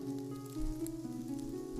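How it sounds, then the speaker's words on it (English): Steady rain patters and taps against windowpanes, a soft continuous wash of droplets running through the whole stretch with no voices. "The rain tapped against the windows with a rhythm all its own"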